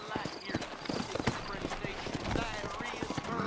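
Horse hooves clip-clop steadily in Red Dead Redemption, a quick repeating beat of several hoofbeats with a brief whinny possible, heard beneath a voice speaking over the top.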